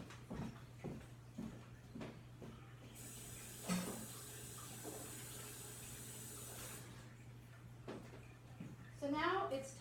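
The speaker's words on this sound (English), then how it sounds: "I'm just going to wash my hands and be right back." Running water from a kitchen sink tap while hands are washed, a steady moderate hiss lasting several seconds under a constant low hum, with faint clatter around it.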